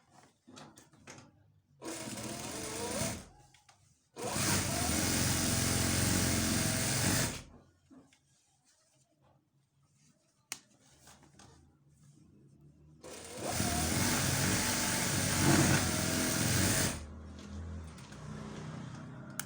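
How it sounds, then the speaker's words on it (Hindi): A sewing machine stitching a child's shalwar: three long runs of loud, steady mechanical whirring with rapid needle clatter, separated by quiet pauses with light handling noises, the last run lasting several seconds. "अब यहाँ से भी हम एक सिलाई लगाएंगे।"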